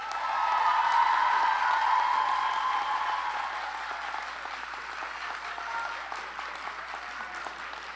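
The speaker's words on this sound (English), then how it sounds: "give them a hearty round of applause" Graduation ceremony audience gives a hearty round of applause for seated graduates, dense clapping swelling early then easing slightly while continuing steadily in a large hall.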